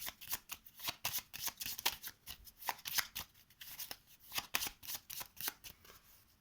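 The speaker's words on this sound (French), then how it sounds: "Alors pareil, on va le mélanger." Deck of cards from the board game Vendredi being shuffled by hand, a quiet, close run of rapid riffling flutters and soft slaps repeating in quick bursts.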